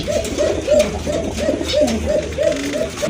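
A yellow fancy pigeon coos over and over in a steady, throaty rhythm, close and fairly loud, with a faint hum of background noise.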